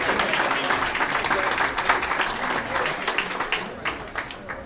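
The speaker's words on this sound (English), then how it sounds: "So I just want to give a big round of applause to Joe Tusa." Audience applause at a Staten Island-area hall of fame induction dinner, a dense, steady wash of many hands clapping that holds fairly level, then thins slightly into scattered claps near the end.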